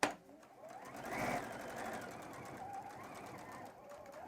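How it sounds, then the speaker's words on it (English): A sewing machine runs steadily, top stitching along an apron, its motor whir continuous at a moderate, close level with faint background voice activity beneath. "we're going to top stitch all the way up here"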